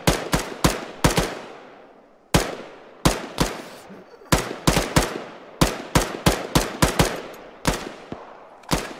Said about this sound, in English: Shoot the guy shooting at me.